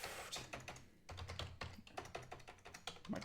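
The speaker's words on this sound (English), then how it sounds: "My typing is terrible this evening" Fast, uneven clatter of keys on a computer keyboard, typed at a desk during a software configuration session, quiet and close with short bursts and a brief pause.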